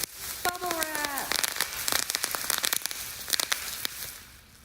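Bubble wrap crackles in a dense run of sharp pops, imitating burning embers, with a short whistling tone near the start and the popping thinning out toward the end.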